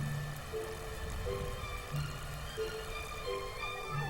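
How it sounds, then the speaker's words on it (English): Rain falls on a tea plantation in Santa Kiri, Thailand, a soft, even patter with faint tonal background sounds throughout. "At the end of April, it finally rains in Santa Kiri."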